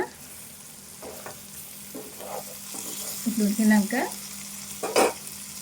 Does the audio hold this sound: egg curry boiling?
yes